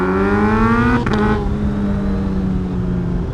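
A Kawasaki ZH2 motorcycle fitted with a full aftermarket exhaust rides at steady speed, its loud engine drone holding a constant pitch with a brief shift in tone partway through.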